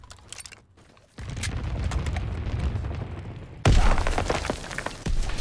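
Anti-aircraft battery in a video game firing loud, dense bursts: a sustained roar of rapid shots that breaks into a sharper, heavier volley partway through, with a short quieter stretch at the start.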